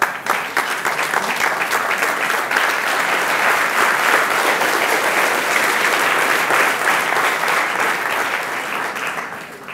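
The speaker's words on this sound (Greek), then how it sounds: "να του δώσουμε ένα θερμό χειροκρότημα" Sustained applause from an audience at a book presentation, dense steady clapping from many hands that fills the room for about ten seconds at an even, loud level, with no speech over it.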